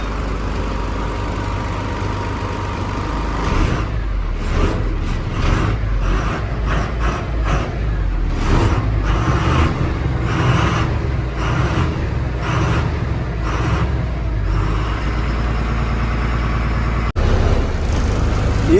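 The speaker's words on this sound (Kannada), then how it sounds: "ಗಾಡಿ ಇಂಜನ್ ಸೌಂಡ್ ನೋಡಿದ್ರೆ ಯಾರ್ಯಾರು ಏನಾರ ಡೌಟ್ಸ್ ಇದ್ರೆ ಕಮೆಂಟ್ ಮಾಡಿ" A second-hand diesel truck engine runs loud and close, a steady low rumble with rhythmic pulsing bursts that carry on throughout, with no talk over it.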